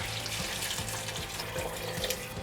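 Water is poured into a pot of Afghan chicken vegetable soup, a steady, quiet, continuous splashing rush with no voices over it.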